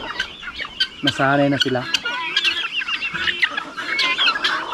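Chickens cluck and squawk close by in a farmyard with guinea fowl among them, with one prominent call and other scattered clucks while a person speaks briefly.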